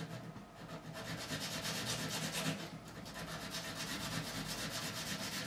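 Steady, continuous rasping of sandpaper against the base of an acoustic guitar saddle, close up, with rhythmic back-and-forth strokes and no talking.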